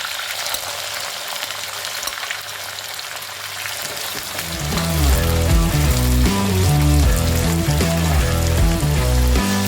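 Dry red chillies, curry leaves and capsicum frying in hot oil, the sizzle quiet at first and then swelling into a loud, steady crackle with rhythmic stirring scrapes, close up with no voices.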